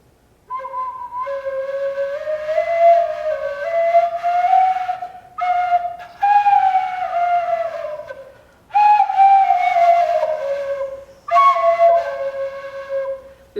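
A fat painted bamboo flute plays a series of breathy, sustained whistling notes that slide and bend, broken by brief pauses, loud and close with no talk.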